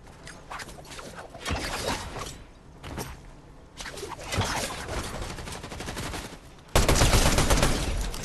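Bursts of gunfire in Fortnite, close and loud volleys of shots in uneven bursts with short gaps, ending in a sustained heavy barrage.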